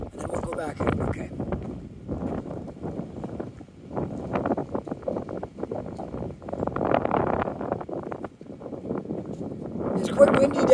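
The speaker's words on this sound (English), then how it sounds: "It's quite windy down here," Strong wind gusts buffet the microphone by a river beneath a covered bridge in Hartland, New Brunswick, a steady rough roar that swells and falls, with people talking over it throughout.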